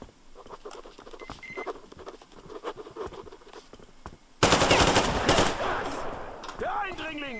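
Gunfire in the video game Metro Exodus: a dense burst of rapid shots erupts loudly after several seconds of quieter scattered taps and background activity, with whistling tones near the end.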